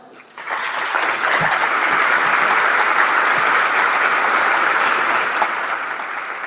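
Cordial applause welcoming a speaker at the opening of a FENEAP ethics and probity congress; clapping starts abruptly, holds steady and full for about six seconds, then begins to thin.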